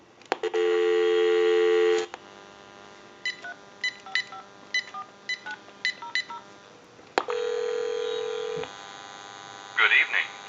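A General Electric 27909 cordless telephone gives a steady dial tone, then a run of about a dozen quick DTMF keypad tones, then another steady tone, all loud and close, followed by a brief burst of sound at the end.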